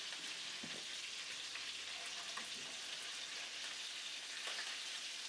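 Chicken saltimbocca sizzles steadily in a pan with a continuous close frying hiss and a few faint clinks, and nobody speaks.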